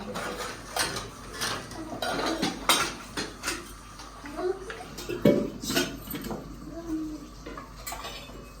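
Small dishes and utensils clink and clatter as they are set on shelves, with repeated sharp metallic knocks and rattles at uneven intervals, close by, with a little talk mixed in.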